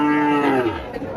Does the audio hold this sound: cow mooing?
yes